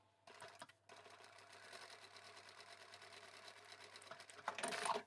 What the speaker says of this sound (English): Let's take that to the machine and sew straight across